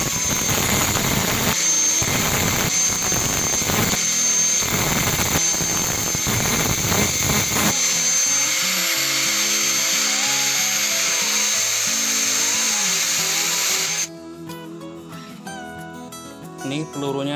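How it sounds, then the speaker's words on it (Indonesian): An angle grinder smooths a homemade slingshot fishing bullet, a metal rod cut to 6 cm, with loud, rough, scraping grinding bursts throughout, then a steadier high whine before the tool cuts out. "tinggal kita alusin di gerinda bro."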